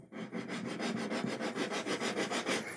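A guitar fingerboard is sanded with 120-grit paper on a radius block, giving steady, even rasping strokes in a quick regular rhythm, close and clear with no voices.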